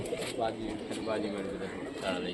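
Rajshahi Giribaz pigeons cooing and fluttering nearby in a brief burst, with someone talking over the birds.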